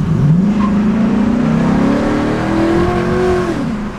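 A Chevrolet Silverado pickup's engine, sounding supercharged, revs up loudly and close with a rising whine that climbs, holds and then drops off, with no talk over it.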